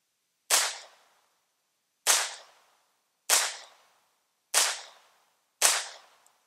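Five sharp Walther P22 pistol shots fired one-handed on a shooting range, spaced about a second or so apart, each a loud crack with a quick decaying tail, no talking.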